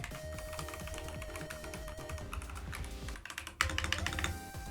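Someone types on an AKKO 3068 mechanical keyboard fitted with custom keycaps, producing a quick, steady run of crisp clacking keystrokes at close range. The typing grows busier and louder near the end over a faint background tone.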